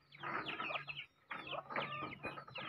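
Chicks peep in two quick bursts of high, closely spaced chirps, close by but fairly quiet, with a short pause between the bursts.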